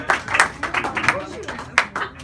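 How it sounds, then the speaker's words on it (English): Scattered clapping from a comedy club audience after an open mic set, a handful of uneven claps with a voice running over them. "Big round of applause for the open mic"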